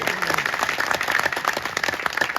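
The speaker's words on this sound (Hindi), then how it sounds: "इतनी कमजोर तालियां फारूक के लिए नहीं चाहिए" An audience at a Hindi poetry gathering in a village applauds a satirical poet with a thin but continuous patter of clapping that holds steady throughout.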